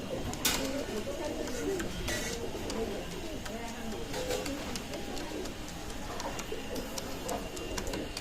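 Pigeons in a loft keeping up a steady, overlapping cooing and rustling, with soft tonal calls repeating throughout and someone talking faintly now and then over them.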